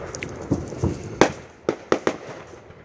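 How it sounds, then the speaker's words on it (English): M80 firecrackers and fireworks bang outside on New Year's Eve, about half a dozen sharp pops at irregular intervals, moderately distant and fairly loud against a quiet background. "they've been lighting off M80s and stuff"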